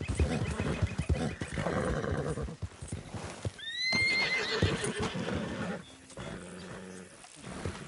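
A horse whinnies loudly with a rising, shrill neigh, amid clopping hooves and low rumbling, in the game Red Dead Redemption 2.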